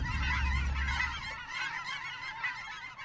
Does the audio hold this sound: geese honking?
yes